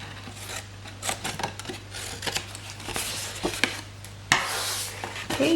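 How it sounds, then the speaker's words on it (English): Scissors snipping cardstock along score lines to notch out a handmade picnic box, several crisp close cuts and rustles of paper handling, with a steady background hum. "going to bring in my scissors, and we're just going to cut up these score lines here and notch those out as we go round"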